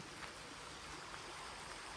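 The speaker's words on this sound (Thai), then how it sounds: "ยังมีน้ำไหลออกมาจากป่า" A creek swollen by two days and nights of rain keeps pouring out of the forest, giving a faint, steady rush of flowing water with no voices.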